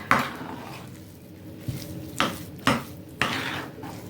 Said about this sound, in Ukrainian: І теж гарно це все розмішуємо